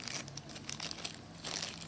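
Close, quiet crinkling of a plastic bag, irregular rustles and crackles handled near the microphone.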